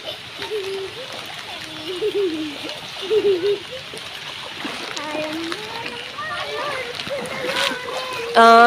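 A swollen stream rushes strongly during heavy rain flooding, a steady nearby splashing flow running beneath people talking almost continuously.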